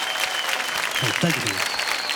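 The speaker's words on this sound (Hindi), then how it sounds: "वाह, तालियां" Steady audience clapping at a women's empowerment initiative event fills the stretch, with a voice briefly speaking over it.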